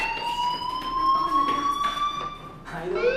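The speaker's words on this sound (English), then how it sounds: "do you hear that fire alarm?" A steady electronic fire alarm tone in the video game Life is Strange rings continuously, a high pitched wail that holds and then shifts, with faint voices under it.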